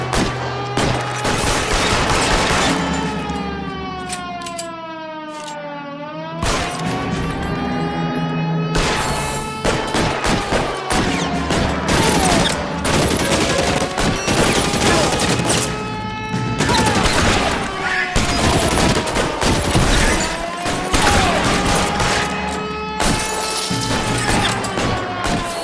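Heavy gunfire in the L.A. Noire shootout rattles in dense, repeated bursts and volleys for the whole stretch, loud and close, mixed with crashes and a tonal music bed, with no speech.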